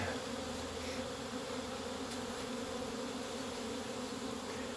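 Honey bees swarm around hives during a honey harvest, a dense, steady drone of many wings buzzing close by with no talk over it.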